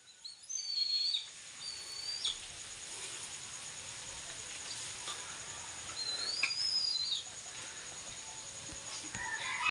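A few thin, high chirps from a pet lovebird while feeding sound in quiet bursts over a soft background hiss, with gaps between the calls.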